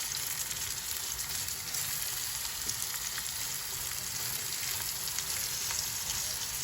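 Eggs sizzle and fry steadily in a pan while being stirred, a constant close crackle with faint scraping, outdoors at a village breakfast.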